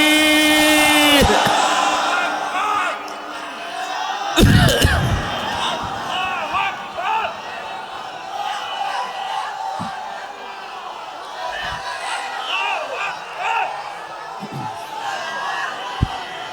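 A large crowd at an outdoor Bengali Islamic sermon gathering answers a takbir call with a loud, sudden collective shout of Allahu Akbar, following a single voice over a PA, and then a murmuring crowd and speech continue.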